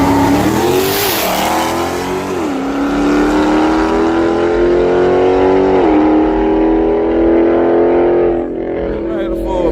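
Drag racing car making a full pass, a loud sustained engine roar with rising pitch sweeps as it shifts through gears, fading slightly near the end with voices underneath.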